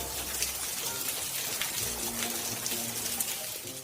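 Rain at an outdoor spot in Carballeda de Valdeorras, Orense, Spain, patters and gushes steadily, a wet hiss with scattered drops and faint low rumbling underneath.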